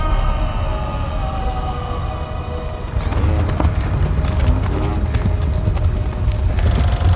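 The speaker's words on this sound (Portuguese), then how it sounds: "Lembra como o pequeno Simba tentou escapar de uma imensa manada de gnus que acabou matando seu corajoso pai Mufasa?" A wildebeest herd stampedes in a scene from the animated film The Lion King. Dense, loud drumming hooves rumble continuously and intensify partway through, with animal cries mixed in.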